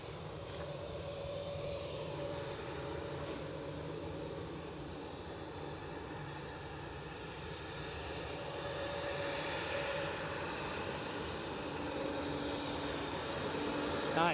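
Embraer 190 jet at Edinburgh Airport, a distant, steady engine rumble and hiss that builds gradually toward the end, with faint background ambience and no clear talk.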